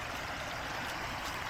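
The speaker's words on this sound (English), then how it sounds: "The river is running nice." A small river beside a campground campsite flows steadily with rainwater runoff, a continuous broadband rushing wash that stays even and close throughout.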